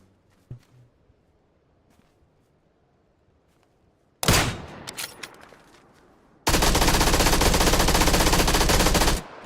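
Gunfire in the video game PUBG arrives as a loud burst of shots, then a sustained automatic stream from close range after a quiet stretch.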